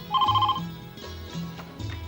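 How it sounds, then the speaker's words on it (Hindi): A telephone rings in a Hindi family drama scene, a loud electronic ring pattern with repeated tonal bursts in quick succession over about two seconds, with no talking. "अब आशु को तो फोन करो।"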